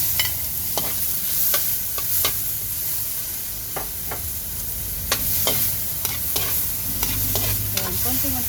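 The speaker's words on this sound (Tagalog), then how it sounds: "Then, kamatis." Tomato sizzles and is stirred in a little oil in a pan for shrimp sinigang, with steady frying hiss and repeated sharp scraping clinks of a utensil against the pan, close and alone.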